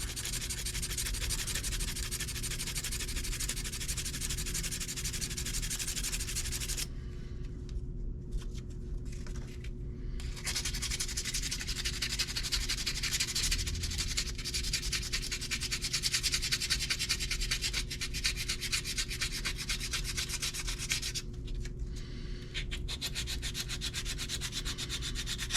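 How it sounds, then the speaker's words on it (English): Steady, close rasping of sandpaper on a homemade slow pitch fishing jig cast from old boat zinc and lead, continuous rubbing strokes with a couple of brief pauses, no voices. "Let's see if I can kind of sand her out a little here."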